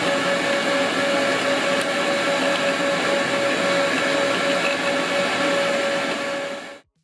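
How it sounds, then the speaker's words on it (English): A vacuum cleaner whirs loudly and steadily with a high whine while cleaning a PS3 Slim, then cuts off abruptly at the end. "Any sort of vacuum cleaner should do the job."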